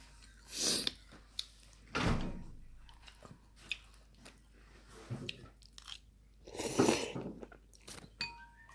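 A dachshund crunches and chews hard ice at home, with several loud separate crunching bites spaced apart amid quieter gnawing and small clicks.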